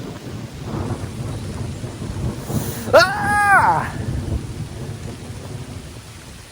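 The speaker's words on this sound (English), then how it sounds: "I even heard the thunder there." A thunderstorm on a wet spring day, with steady rain and a loud thunder crack near the middle, followed by a rolling rumble. A person cries out once in alarm.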